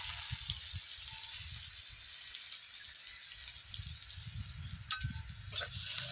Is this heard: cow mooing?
no